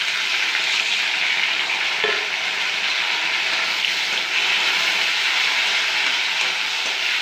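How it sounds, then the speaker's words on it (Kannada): Pumpkin pieces frying in hot oil for a Kannada-style kumbalakai palya, with a steady, even sizzle that carries on without a break and with no voices over it. "ಒಂದು 2 ನಿಮಿಷ ಎಣ್ಣೆಯಲ್ಲಿ ಚೆನ್ನಾಗಿ ಫ್ರೈ ಆಗಲಿ"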